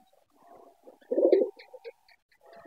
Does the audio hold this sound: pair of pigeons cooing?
yes